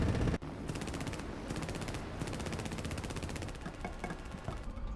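Continuous rapid machine-gun fire from Avro Lancaster bomber gunners in War Thunder, a dense rattling stream of bursts that runs without pause at steady loudness.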